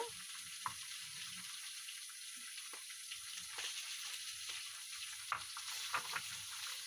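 Hot oil sizzles steadily as chili goes into the pan for a thin rohu fish curry with drumsticks, a low crackling fry with a few sharper pops and clinks, no talk.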